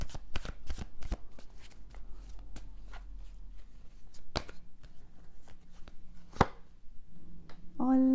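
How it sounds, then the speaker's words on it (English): Tarot and oracle cards shuffled by hand, a series of crisp close riffling snaps and slaps in an irregular rhythm, with a brief tonal sound at the very end. "Heart of the Fairy Oracle."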